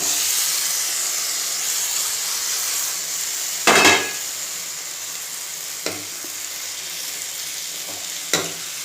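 Drumsticks tossed into a pan of frying brinjal curry give a constant loud sizzle and hiss, broken by a sharp clatter of pieces going in and a few metal scrapes of stirring, with no voices.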